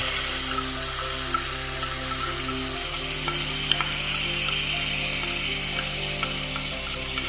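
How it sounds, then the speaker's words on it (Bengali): Potatoes with ground onion, ginger, garlic and tomato paste fry in a pan, a dense continuous sizzle with occasional scraping stirs and light ticks, a low steady hum beneath, no one talking. "এর মধ্যে যে বাটা মশলাটা ছিল, পেঁয়াজ, আদা, রসুন, টমেটো, এটাকে আমি দিয়ে দিলাম।"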